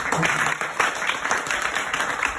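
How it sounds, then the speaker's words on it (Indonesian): Applause from a seminar audience welcoming invited guests at a sales community event, steady, fairly loud clapping with some individual claps standing out. "Pada para tamu undangan, tepuk tangannya."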